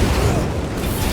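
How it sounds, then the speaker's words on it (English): A frag grenade explosion in Warhammer 40,000 Space Marine 2, a loud deep boom with a rumbling burst that fills the short moment. "Deploying frag grenade!"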